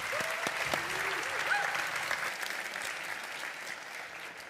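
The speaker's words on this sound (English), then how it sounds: "please give a warm round of applause to Harrison" A conference audience at SmashingConf Antwerp 2024 applauds warmly to welcome speaker Harrison Wheeler, a dense, sustained clapping that fills the whole stretch and slowly eases off, with a few faint whistles rising over it.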